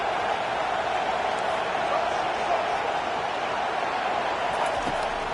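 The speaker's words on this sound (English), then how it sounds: "Decibels rising as the crowd gets behind this defense on 3rd down" Football stadium crowd roaring on third down, a dense, steady wall of cheering that holds loud throughout, with a commentator talking over it.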